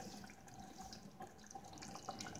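Water trickles into a pot of chicken curry in a faint, steady pour heard close by without talk.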